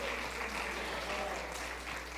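A church congregation applauds during a Spanish-language sermon, a dense continuous wash of clapping with a low steady hum beneath it, even in level from start to finish.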